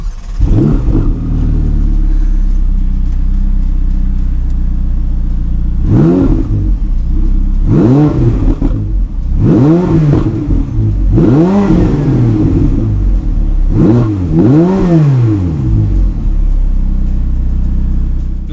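A Ferrari 488 Pista with an Inconel exhaust revs hard and close, its engine rising to the limiter in five or six sharp sweeps over a steady idle rumble, with no talk.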